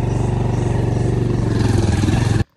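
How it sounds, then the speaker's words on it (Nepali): A motorcycle engine idles and runs steadily as riders set off near Urlabari, a loud, even, throbbing putter that cuts off abruptly at the end. "सो म त बाइकमा चढिसकेँ"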